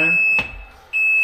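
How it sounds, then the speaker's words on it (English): A Can-Am Maverick R side-by-side beeping while stuck in permanent neutral, a sharp high electronic tone heard at the start and again at the end around a brief thump. "She's beeping because it's in permanent neutral."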